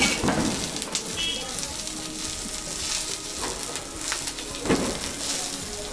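Mint leaves frying in a pan for idli chutney give a soft, continuous sizzle with scattered crackles and a few stirring clinks, fairly quiet and close.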